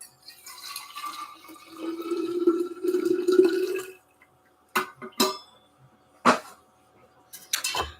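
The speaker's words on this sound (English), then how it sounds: "So this was made in the French press this morning. I think I'll pour it in here" Coffee made in a French press pours steadily into a cup for about four seconds, a close liquid trickle, followed by a few sharp clinks and knocks of glass and crockery.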